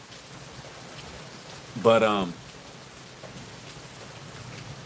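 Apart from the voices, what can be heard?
light rain falling outdoors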